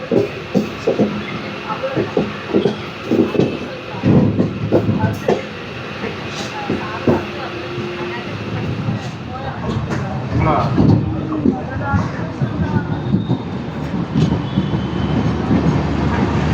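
A train pulls away and runs along the rails, giving a loud rumble with repeated clacks and knocks, sometimes under a little talk.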